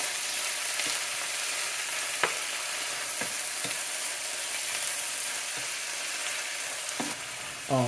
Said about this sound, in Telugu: ఇప్పుడు కొంచెం సేపు ఆయిల్లో ఆనియన్స్తో పాటు మనం ఆకుకూరనేసి లైట్గా కొంచెం ఉడకనిస్తే